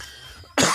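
A single sharp cough bursts out close and loud at the end, after a stretch of quiet room tone.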